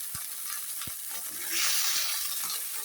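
Flat beans cook in a pan as a little water is added, making a soft continuous sizzle that swells briefly midway, with a few light knocks of a utensil and no talk.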